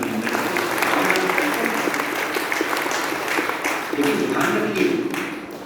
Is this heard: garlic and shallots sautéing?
no